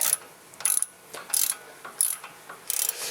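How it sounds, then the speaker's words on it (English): Ratchet wrench working on the upper ball joint of a 2006 Dodge Dakota, giving four or five short bursts of rapid clicking close by, with quiet gaps between them. "So we're breaking loose the upper ball joint"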